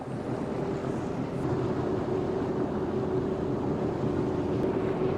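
Steady motorboat engine drone cruising on a bay, with wind buffeting and water rushing past, continuous and fairly close, no voices.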